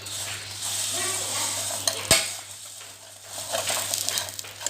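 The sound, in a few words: vermicelli roasting in desi ghee in a pan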